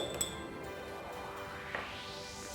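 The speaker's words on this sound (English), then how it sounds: "Take a glass of water, add 1 teaspoon of salt to it, mix it well," A spoon stirs salt into a glass of water, giving a few faint, close clinks against the glass and ringing tones that fade away, with no talking.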